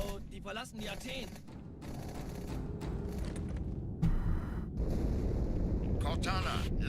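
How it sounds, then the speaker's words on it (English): An explosion rumbles in Halo 2, a deep booming burst with a crackling roar and wind-like noise. Game sounds and a voice come and go around it, loud and continuous throughout. "Die Explosion kam aus dem Innern der Athen"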